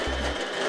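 A Pfaff Smarter 140 sewing machine whirs briefly as it winds a bobbin under foot-pedal control, a close mechanical hum that cuts off partway through.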